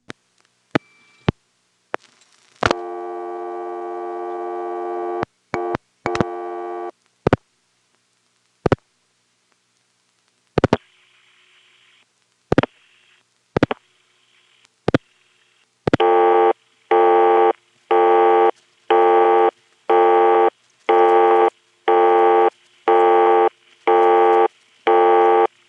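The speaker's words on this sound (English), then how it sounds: "That is the busy tone from the 119 circuit in Sanford" Busy tone from an XY step telephone exchange circuit in Sanford, North Carolina, 1977: clicks and short tone bursts, then a steady run of evenly spaced loud on-off beeps, with no talk.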